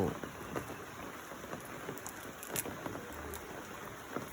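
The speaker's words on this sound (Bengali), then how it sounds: "বৃষ্টি হচ্ছে" Soft, steady rainfall patters nearby on a rooftop garden with dragon fruit plants, with scattered drips and taps standing out against the quiet hiss.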